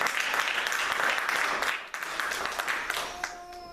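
Church congregation applauding at a Sunday worship service, dense sustained clapping filling the room, tapering slightly near the end as a faint tonal note rises beneath.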